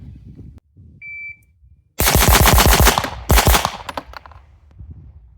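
A rapid string of loud, close pistol shots from an MPA DS9 Open Comp, about a dozen in quick succession, a brief pause, then a second burst, preceded by a short electronic shot-timer beep.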